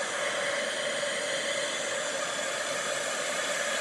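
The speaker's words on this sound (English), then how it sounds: "the heat gun is now warmed up" A heat gun blows hot air in a continuous, even hiss at moderate level, a steady broadband rush with no pauses, used on a stamped paper gift card holder, with no talking.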